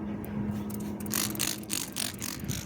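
Several quick hissing sprays of ceramic detailing spray from a spray bottle onto a Mercedes C-Class, close by, short bursts in a row over a low background hum.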